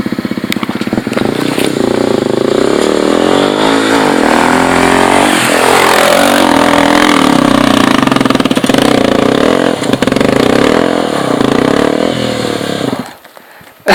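A motorcycle on a dirt trail in Serra da Canastra revs hard and close. The engine drones loudly and continuously, its pitch rising and falling, before cutting off abruptly near the end.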